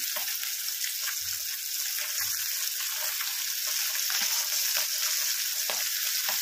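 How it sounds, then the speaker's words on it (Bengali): Close, steady sizzling and crackling of pabda fish frying in hot oil, continuous throughout with occasional soft clinks and a few louder pops. "বাকি মাছগুলো ভেজে নিয়ে আমি ফেরত আসি"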